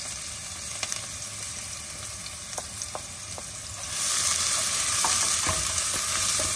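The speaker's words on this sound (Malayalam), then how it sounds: "അതൊന്ന് ചൂടായപ്പോഴത്തേക്ക് ഞാൻ ചോപ്പ് ചെയ്ത് വെച്ച കുറച്ച് ഉള്ളി ഉണ്ട്," Chopped onion frying in a hot pan with spices, with light stirring clinks at first, then a loud, steady sizzle swelling up as the onion hits the oil.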